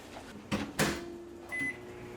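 A microwave oven heating two tablespoons of butter gives a couple of short clunks and then one brief electronic beep against a quiet kitchen background.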